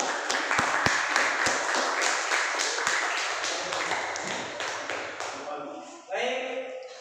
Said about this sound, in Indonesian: Mari kita berikan tepuk tangan atas keberhasilan kita semua